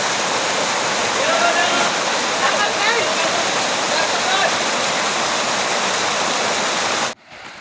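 Waterfall roaring as a loud, steady broadband rush of falling water, close by and continuous, then cutting off abruptly at the end.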